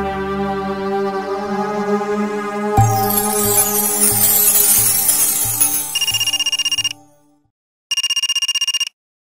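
A telephone rings during an outgoing call after music fades, bursts of bright electronic ring tone repeating with a silent gap between them, near and loud with no voices.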